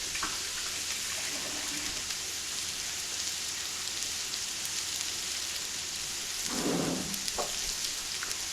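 Hash browns frying in a small, well-filled pan give off a steady, even sizzle with a rain-like hiss that holds throughout. A brief louder scrape or rustle sounds near the end.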